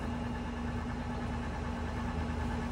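A TOS FA5B-U heavy-duty universal milling machine spindle runs at 900 RPM, giving a steady, loud mechanical hum with a constant tonal whine and no change in pitch, heard alone without talk.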